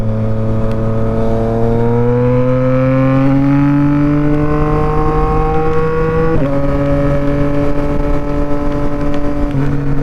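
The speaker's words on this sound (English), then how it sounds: "I know this bike's loud and it picks up on the mic" A loud Yamaha MT-09 motorcycle engine drones steadily while riding, its pitch climbing slowly before a quick shift-like dip and settling into a steady higher hum, close to the microphone.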